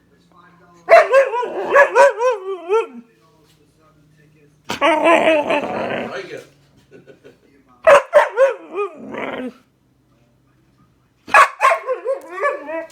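A dog barks and yips in several loud bursts separated by pauses, with a person speaking briefly among them.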